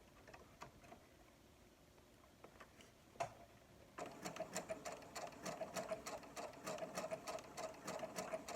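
A Brother SE400 sewing machine with a J presser foot stitches decorative and heirloom patterns, starting with sparse ticks, then settling into a steady, close, rapid mechanical clatter.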